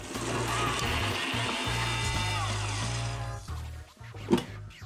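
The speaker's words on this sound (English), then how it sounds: "We're going to blend until completely smooth." A blender whirs through frozen strawberries, coconut water, almond butter and coconut nectar for a smoothie, a close, fairly quiet motor whine that rises and shifts pitch before cutting off near the end.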